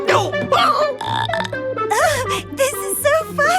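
A cartoon burping contest: a loud, close, drawn-out croaking burp with a wavering, voice-like tone, followed by a second burst that rises and falls.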